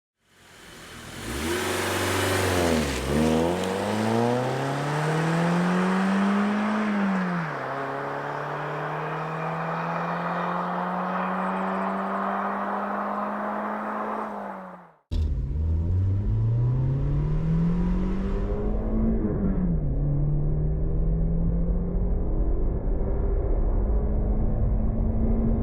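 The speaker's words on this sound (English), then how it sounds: "Our G20t's dash to 60 is actually pretty impressive" A 1995 Infiniti G20t with 140 horsepower accelerates hard to 60, its engine note climbing loud and close through the gears, dropping sharply at each upshift before winding up again.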